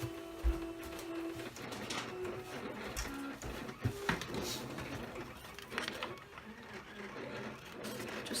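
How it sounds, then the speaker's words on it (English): A vinyl cutting machine slices through PS film for hot foil application, giving a steady mechanical whir with small ratcheting clicks and carriage shifts, close by and continuous with no talk over it. "we will just wait for our PS film to finish cutting"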